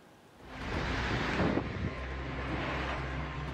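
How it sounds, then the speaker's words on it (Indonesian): Heavy rain driven by strong wind during a Thursday afternoon storm in Cipayung, East Jakarta, rising into a loud, steady roaring wash of noise with gusty buffeting against the microphone. "Video amatir merekam hujan deras yang disertai angin kencang yang melanda kawasan Cipayung, Jakarta Timur, Kamis sore."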